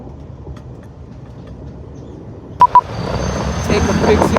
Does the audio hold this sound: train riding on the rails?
yes